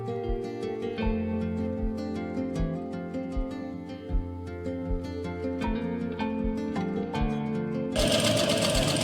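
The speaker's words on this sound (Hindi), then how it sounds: "अब जैसे आपने सिलाई स्टार्ट छोड़ी थी यहाँ पे, वहाँ से ही आपने स्टार्ट कर देनी है।" Sewing machine stitching the neckline of a kurti, a fast steady mechanical clatter running close and loud, with a brief burst of louder noise near the end.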